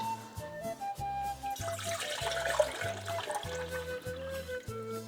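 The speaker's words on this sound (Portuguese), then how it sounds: "vou colocar a água a aquecer" Tap water runs into a cooking pot being filled for a monkfish rice dish, a soft rushing pour beneath steady background music.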